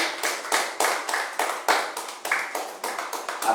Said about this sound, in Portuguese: Aplauda Jesus com bastante alegria e vamos agradecer a Ele